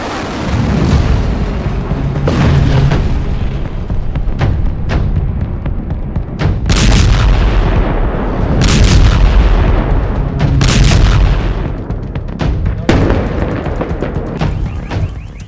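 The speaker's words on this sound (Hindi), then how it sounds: "एक तरफ लेबनान में इजराइल के नॉनस्टॉप धमाके हैं" Israeli strikes in Lebanon sound as repeated heavy explosions and booming blasts, loud and rumbling, with sharp cracks piling over a continuous roar of war noise.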